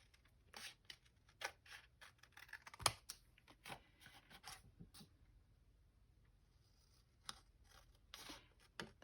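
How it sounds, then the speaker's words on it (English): Scissors snip and run along paper in quiet, irregular bursts of crisp cutting and rustling, heard close up against a near-silent background. "I'm just going to take my scissors and run down this."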